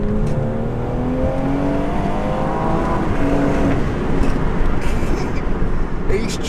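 An MG car with a Flasher Stage 2 tune accelerates hard in third gear, its engine note rising steadily and loud from inside the cabin, with people talking over it.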